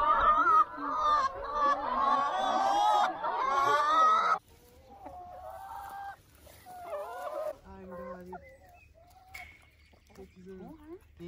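Laying hens roam the grounds of a free-range poultry farm, first a dense chorus of clucking and squawking, then a sparser scatter of individual clucks and calls nearby.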